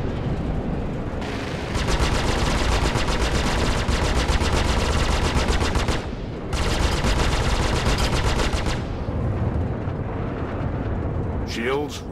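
Rapid machine-gun-like fire pounds a spaceship's shields in a video game, two long dense bursts with a short gap between them, loud and close, followed by a brief sweeping electronic sound as a voice speaks.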